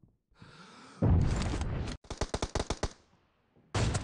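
Bursts of gunfire in a team-based shooter video game: a sustained burst, then a rapid string of distinct individual shots, then another burst, fairly loud and close with no talking.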